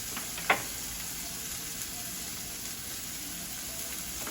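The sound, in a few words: sautéing mushrooms and turkey sausage in a skillet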